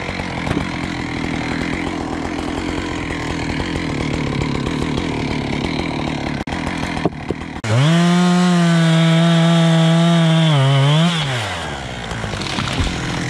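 Chainsaw high in a 30-metre tree being dismantled, sputtering with a few rough pulls before catching, then a loud sustained whine that bogs down as it bites into the wood and drops away.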